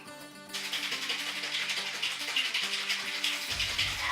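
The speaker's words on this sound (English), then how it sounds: "We're gonna start off with adding an ounce of OJ and 2 ounces of melon liqueur." Orange juice and melon liqueur are poured into a glass, making a steady, close liquid splashing and gurgling that starts after a brief pause and continues to the end, with no talking.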